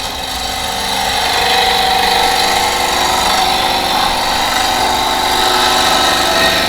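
Steady loud whir of a wood lathe with a chisel cutting aggressively at the roughing stage, a continuous broadband tearing hiss that holds evenly throughout with no talk.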